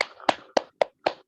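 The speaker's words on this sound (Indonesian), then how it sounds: "Kita berikan tepuk tangan untuk kelompok 2." Five sharp, separate hand claps ring out at a slow, even pace, close and clear with silence between them, in a small online group session.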